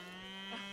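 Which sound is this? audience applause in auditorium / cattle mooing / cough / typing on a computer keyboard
cattle mooing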